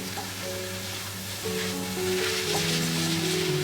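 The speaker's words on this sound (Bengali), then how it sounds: "এর মধ্যে সেদ্ধ করে রাখা মোচা দিয়ে দেব আর মশলার সাথে ভালো করে কষিয়ে নেব" Boiled banana flower fries with spices in a pan under a steady sizzle that swells louder partway through as it is stirred, while faint tonal music plays in the background.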